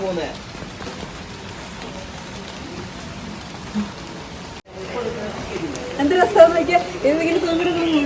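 Rain patters steadily on surfaces in Wayanad beside a roadside tea-stall style spot, while people talk over it.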